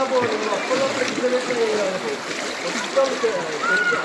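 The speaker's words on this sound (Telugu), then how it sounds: "బండి మొత్తం మునిగిపోయినాయి వాటర్తో" Broadband rushing flood water with steady splashing and sloshing throughout as a submerged motorbike is pushed through it in heavy rain in Warangal, voices talking over it near the listener.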